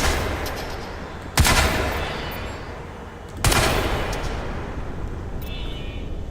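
Gunfire in the Crysis 3 Remastered video game: two sharp, loud blasts a couple of seconds apart, each trailing into a long rumbling decay over a steady game backdrop.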